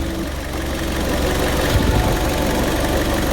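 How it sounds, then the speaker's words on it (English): A Fiat 500 / Ford Ka 1.2 petrol engine idles to warm the oil before a sump change, giving a steady, loud, even rumble with a slight mechanical clatter throughout. "Now I've got the engine running because I want to warm up the oil"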